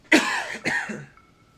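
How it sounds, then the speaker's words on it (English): A person clears their throat and then gives a single cough, two sharp close bursts in quick succession before quiet. "I just want to go ahead and clear my throat because I got a little cough."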